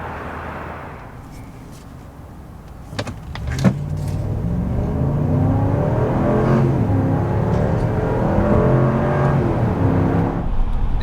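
Hurricane twin-turbo inline-six vehicle accelerating, a steady engine whir and rising drone building in loudness and holding strong to the end, with a few brief clicks early on, no voices.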